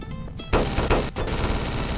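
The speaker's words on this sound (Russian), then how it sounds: "это эффект от этой бомбы" Bomb explosion effect in Garry's Mod: loud rapid crackling bursts in quick succession, like a rattling fusillade with short gaps, dense and close throughout.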